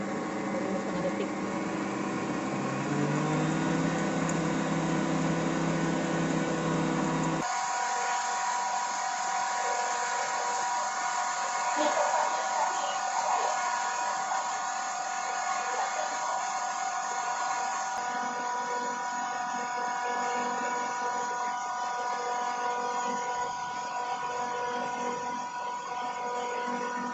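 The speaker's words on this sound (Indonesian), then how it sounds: "Kita blender, kita mixer selama 3 menit telur sama gulanya." An electric mixer whirs steadily through eggs and sugar for brownie batter, a loud continuous motor whine that drops to a thinner, higher-pitched hum partway through as the speed changes.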